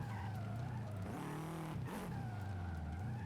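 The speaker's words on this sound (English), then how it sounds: "We're going to be hard on the brakes." A race car in Forza Horizon 5 braking hard with skidding tires, a steady engine hum broken by a sharp squealing skid midway as the engine pitch drops and then settles back.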